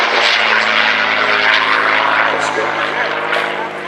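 A Twin Mustang, built from two Mustang fuselages joined together with propeller engines, drones loudly and steadily overhead at an air festival, the engine noise continuous throughout, with a commentator's voice over it.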